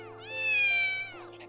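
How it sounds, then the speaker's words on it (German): A cat-like creature in the video game Baten Kaitos lets out one clear, drawn-out meow that rises and fades, heard alone and close. "es klingt wie eine Katze, gebe ich zu"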